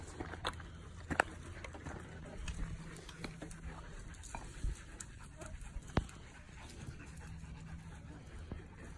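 A dog pants steadily at close range, with quick breathy rhythm and a few soft vocal whimpers and scuffs around it.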